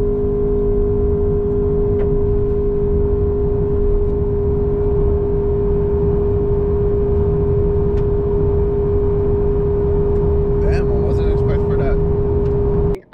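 Toyota Camry TRD, Nissan Altima SR and Honda Accord drag racing side by side, a loud steady engine drone with a strong constant tone heard from inside a car, with people talking over it throughout.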